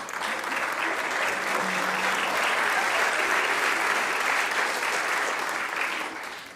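A comedy club audience applauds steadily and loudly, a dense wash of clapping that holds throughout with no one speaking over it.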